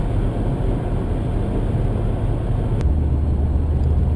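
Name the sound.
650rwhp Holden E3 Senator car accelerating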